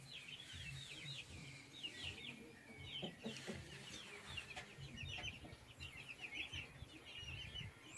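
Chickens cluck and call continuously in a backyard coop housing Angola, Brahma and Baia fowl, with overlapping near and distant voices forming a busy, steady flock chorus.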